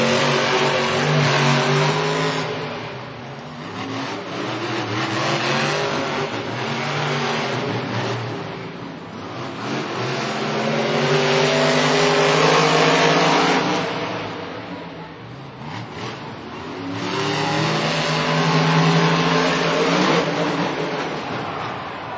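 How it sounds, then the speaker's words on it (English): Monster Jam monster trucks Gravedigger and Jurassic Attack racing around a stadium course, their loud engines roaring and revving in long sustained waves that rise and fall, close and dominant throughout. "What a race by our Monster Jam drivers, Dalton Weiner and Tyler Miniga."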